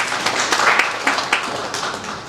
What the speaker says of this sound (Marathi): तुमच्या स्वतःसाठी एकदा जोरदार टाळ्या वाजवा.